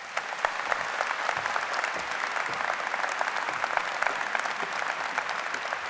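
Steady, dense applause from a large audience at a law school convocation greets United States Senator Edward Markey. It holds evenly throughout with no talking.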